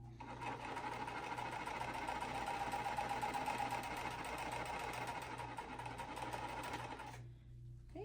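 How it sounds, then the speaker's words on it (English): A sewing machine runs steadily as it stitches quilt fabric pieces at a quarter-inch seam, a close, even mechanical whir with a rapid needle rhythm and low motor hum, stopping near the end. "And then I always sew at the full 1/4 inch seam allowance."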